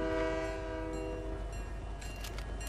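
A train rolls past in the video game Fortnite, its horn sounding as a steady layered tone over continuous low rail rumble, loud and close throughout.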